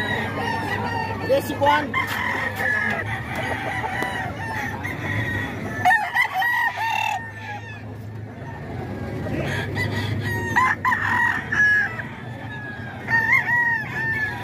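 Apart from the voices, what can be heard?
chickens and roosters crowing and clucking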